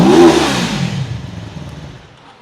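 A Taro GP 1 401cc motorcycle engine revs loudly in one sharp blip near the start, then falls away through a clattery deceleration to a quiet idle.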